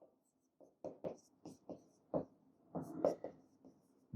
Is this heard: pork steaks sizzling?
no